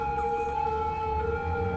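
Police car sirens in the game Cities: Skylines, a steady electronic wail holding several sustained tones, moderately loud and continuous over a low background rumble, with no talk.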